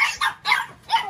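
A French bulldog puppy at a kennel gives three short, close barks in quick succession, each sharp yap separated by a brief pause, with no other sounds.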